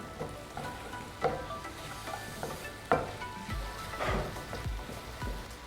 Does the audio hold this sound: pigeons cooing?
no